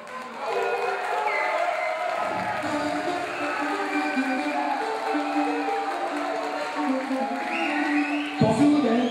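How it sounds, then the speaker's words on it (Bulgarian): An audience at a Miss and Mister graduate pageant claps and cheers steadily, a dense wash of applause and whoops filling the room, with louder bursts near the end. "Да чувам аплодисменти."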